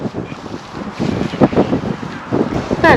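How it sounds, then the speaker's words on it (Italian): Strong wind buffets the microphone outdoors in Iceland, a loud, continuous roaring rumble with gusty surges throughout, and brief voices briefly audible under it. "c'è un vento incredibile"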